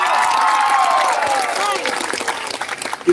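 A large outdoor crowd at a BBM-Sara political rally in Tabuk City, Kalinga breaks into loud, sustained applause and cheering, holding strong before thinning out into scattered claps as a voice carries over the start.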